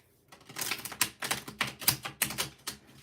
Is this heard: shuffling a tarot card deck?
yes